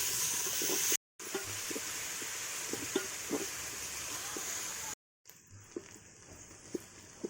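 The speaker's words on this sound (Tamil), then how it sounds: "வெங்காயம் போட்டு கொஞ்சம் வதங்கிட்டேன்" Chopped onions sautéing in a pan for a South Indian veg paneer biryani, a steady close sizzle and hiss with small stirring clicks throughout, briefly cut twice by silence, with no voices.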